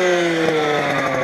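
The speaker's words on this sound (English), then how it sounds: "A two-stroke gasoline engine? Yeah. 32 cc's." Steady high-pitched buzz of a 32cc two-stroke petrol RC car engine running close by, a constant whiny drone with a slight flutter and no talking.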